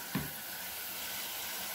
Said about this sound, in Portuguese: Deixo encher aqui até uma parte.